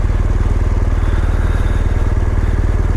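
A motorcycle engine holds at high throttle during a ride, a loud, dense, rapidly pulsing drone that stays steady and close throughout with no voices.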